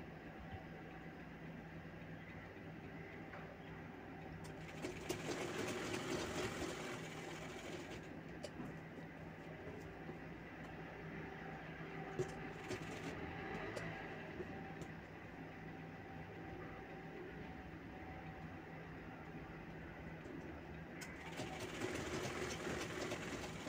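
A sewing machine stitches the side seam of a baby boy's kurta, its steady mechanical whir running continuously with a few louder bursts, close and alone without talk.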